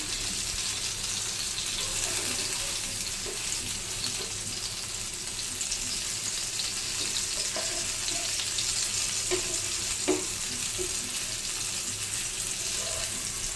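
Bombil (Bombay duck) fish fries in a pan with a steady, broad sizzling hiss and a few soft pops and clinks, continuous and close, with no talking.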